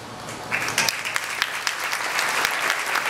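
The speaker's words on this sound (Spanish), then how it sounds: "Un fuerte aplauso, por favor." An award ceremony audience breaks into applause: after a brief lull the clapping swells quickly into steady, dense, fairly close hand claps that keep going to the end.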